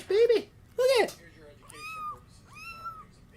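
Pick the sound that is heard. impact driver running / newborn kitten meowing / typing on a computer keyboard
newborn kitten meowing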